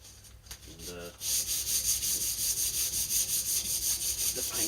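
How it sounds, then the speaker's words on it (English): Abrasive scuffing across a car body panel on a Mazda MX5 build, prepping the surface for paint: quick rhythmic back-and-forth strokes, loud and close, after a brief quieter start. "you basically just want to scuff it all up"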